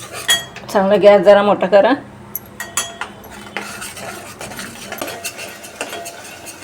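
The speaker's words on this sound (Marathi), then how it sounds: "गूळ घालून घ्या. आता चांगले परतवा." Katachi aamti with jaggery being stirred and sautéed in a pot, with a spoon clinking and scraping against the metal in a close, fairly loud burst of strokes, then lighter clinks with a voice speaking over them.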